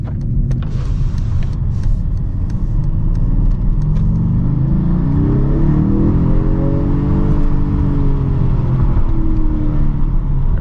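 A 2021 Mercedes-AMG GT 43 4-Door Coupe accelerates in Sport Plus mode, its engine rumbling loud and continuous from inside the cabin as the pitch climbs and sweeps through gear changes.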